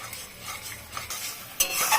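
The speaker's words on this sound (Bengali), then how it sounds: "এখন গ্যাসের ফ্লেমটাকে বাড়িয়ে দিয়ে খুব নাড়ব, খুব নাড়তেই থাকবে, নাহলে কাজুটা লেগে যাবে" Thick cashew spice paste is stirred hard in a kadai over a high gas flame for doi potol, with a steady scraping and sizzling that grows louder and busier near the end.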